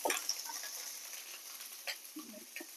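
Okra frying in a pan while sambar is made without coconut gives a soft, quiet sizzle with a few light clicks and spatters.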